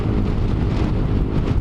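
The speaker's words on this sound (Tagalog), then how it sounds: "Lakas ng hangin." Strong gusting wind blasts across the microphone during a motorcycle ride in a storm, a loud continuous low roar with no break over the short span.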